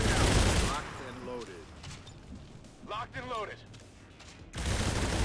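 Dense bursts of gunfire in a military video game open and close the scene, loud and crackling, while quieter stretches in between carry voices and radio-like chatter.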